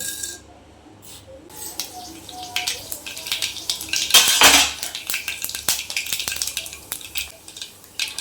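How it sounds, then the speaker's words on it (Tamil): Mustard seeds spluttering in hot oil in a pan, rapid irregular pops and crackles with metal clatter and a brief louder burst of sizzle, close by. "சரி, கடுகு நல்லா பொரிஞ்சிருச்சு."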